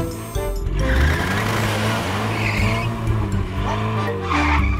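A cartoon car pulling up with skidding, squealing tires over a loud engine drone, close and busy for the whole stretch with several screechy bursts.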